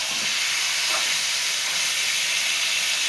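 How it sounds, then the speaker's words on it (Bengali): Spices stir and fry in hot oil, giving a steady loud sizzling hiss that runs unbroken and close, with a faint clink of stirring near the start. "এই জন্য একটু তেলের মধ্যে দিয়ে নাড়লাম"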